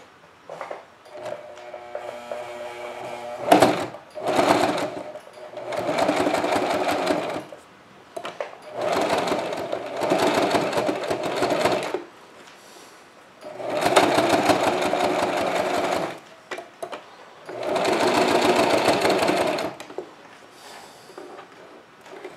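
Sewing machine running in loud bursts of rapid stitching, about five runs of two to four seconds each separated by short pauses, close and clear with no talk.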